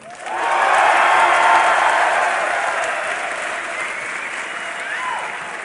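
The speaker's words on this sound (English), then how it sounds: "I want to hear a cheer if you think Fnatic is going to be grand final winners" A packed esports arena crowd at the Dreamhack Winter 2012 final erupts in loud applause and cheering for Fnatic. It swells quickly, holds, then eases slightly while staying dense.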